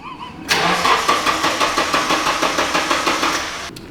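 A Nissan 240SX street car with mechanical problems cranks loudly and close by, its starter churning in an even, rhythmic pulse for about three seconds before cutting off abruptly.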